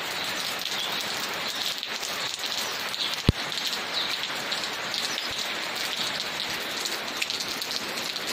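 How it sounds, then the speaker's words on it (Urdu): Heavy rain pours steadily in Kakapora, Pulwama, Jammu and Kashmir, a dense continuous hiss of drops on surfaces, with one sharp nearby knock partway through. "بارش چھِ واریاہ پیوان"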